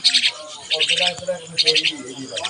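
Common myna birds give bright chirping calls in three short bursts, with softer lower sounds between them, close by.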